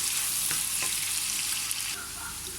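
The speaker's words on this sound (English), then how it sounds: "I'm going to fry the carrot with the gizzard for about 2 minutes" Carrot and gizzard fry in a pan with a steady, dense sizzle, broken by a few soft stirring clicks near the start and the sizzle thinning slightly toward the end.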